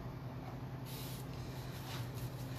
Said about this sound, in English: I'm trying not to spray the water on the seams